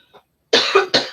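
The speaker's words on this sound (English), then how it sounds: "Excuse me, I'm going to cough for a minute." One person coughs twice, close and loud, in two harsh bursts a moment apart after a faint short sound.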